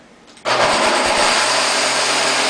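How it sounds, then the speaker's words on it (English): After a brief quiet moment, a blender switches on to purée mustard seeds soaked in vinegar for four days. It settles into a loud, steady, roaring whir that continues to the end. "And put the lid on the blender. It's going to be loud, and we're going to put it on puree."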